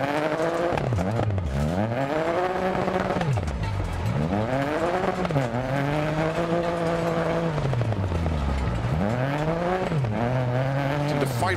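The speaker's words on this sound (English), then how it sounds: "The engine seems down on power" A rally car in DiRT Rally 2.0 roars loudly and close through repeated rising gear pulls, each climb cut by a shift and drop, with tire noise running underneath and no talking throughout.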